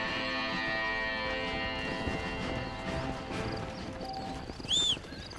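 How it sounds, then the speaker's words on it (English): Horse hooves clip-clop in a steady rhythm in the Red Dead Redemption 2 video game, heard over soft sustained musical tones, with a brief whinny-like sound near the end. "Call the horse over. Get on the horse."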